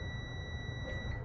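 A multimeter emits a continuous steady electronic beep while testing a thermal fuse from a Whirlpool/Kenmore electric dryer for continuity, held throughout over faint background noise.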